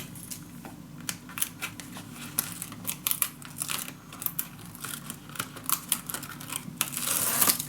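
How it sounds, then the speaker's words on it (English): Adhesive backing peeled slowly off a scrapbook mini album cover, a long run of dry crackling and ticking bursts with a louder tearing rush at the end, close and fairly quiet, no talk. "I'm going to the other side and peel the rest off"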